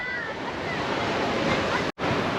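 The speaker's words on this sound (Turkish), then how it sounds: "suyu çok dalgalı" Ocean surf rushes steadily on a beach in Sri Lanka, a continuous loud wash of breaking waves in rough water, with a brief dropout near the end.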